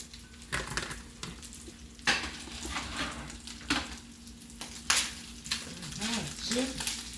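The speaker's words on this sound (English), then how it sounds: "I'm going to take all of my stuff and I'm going to saute it down" Onions and vegetables sauté in a pan with a continuous soft sizzle, punctuated by repeated bursts of stirring and occasional utensil clinks against the pan, fairly close and moderately quiet.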